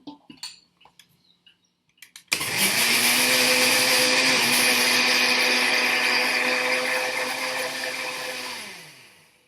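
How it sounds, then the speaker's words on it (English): A kitchen blender mixes eggs and oil for a carrot raisin cake, starting abruptly after a few small clatters and running as a loud, steady whir for several seconds before winding down. "sometimes your blender is not able to mix everything because it gets too thick"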